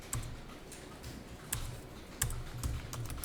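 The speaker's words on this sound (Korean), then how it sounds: "급여라고 타이핑해 주는 게 제일 좋을 것 같습니다" Keys tapped on a computer keyboard in an office accounting setting: soft, irregular clicks at a low level with a few sharper strokes, no voices.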